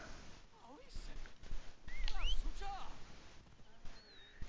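A horse's hooves clip-clop over the ground in Assassin's Creed Origins near Lake Mareotis, a quiet uneven trot joined by faint bird chirps.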